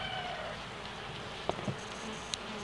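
Buckfast honeybees hum in a low, steady buzz as they are brushed off a hive frame in late autumn, with a few soft knocks and brush strokes close by.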